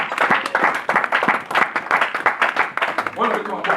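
A church congregation clapping during a French-language sermon, sharp, uneven claps mixed with a preacher's loud voice.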